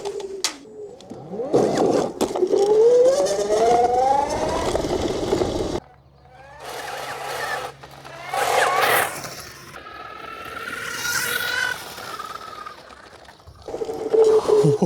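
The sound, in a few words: homemade 50 mph mobility scooter accelerating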